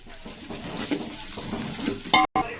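A spoon stirs biryani water seasoned with garam masala and salt in a cooking pot, giving a steady soft swishing with a few light clinks against the metal near the end.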